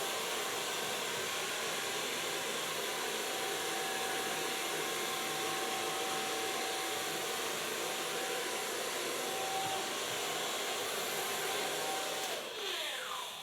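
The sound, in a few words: hair blow drying with a hair dryer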